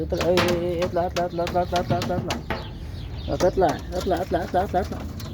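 Pigeons and other birds call in repeated cooing bursts, close and fairly loud, with brief pauses between phrases and a steady background hum.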